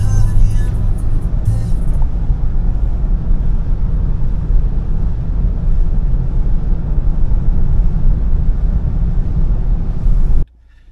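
Mahindra car reversing, with a steady, loud low engine drone and road rumble running continuously, then cutting off abruptly near the end.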